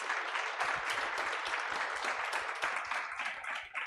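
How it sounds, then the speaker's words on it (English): An audience applauds panelists at the Africa launch of the World Happiness Report 2025, with steady, fairly faint clapping heard from a distance throughout. "I would like to ask for a round of applause for our panelists, please."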